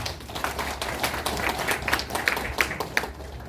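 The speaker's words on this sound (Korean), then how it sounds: "귀한 말씀을 주신 우리 성일정 세계 유불선 평화 총회장님께 큰 박수를 부탁드립니다" Audience applause at a Korean ceremonial assembly honoring a peace association president, a steady wash of clapping with sharper individual claps standing out toward the end, moderately loud and continuous.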